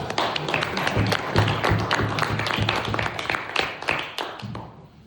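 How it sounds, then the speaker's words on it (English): An audience at a holiday party applauds a poet, a dense burst of many hands clapping close by that stays strong for a few seconds and then begins to thin out. "Give him a round of applause, our wonderful poet"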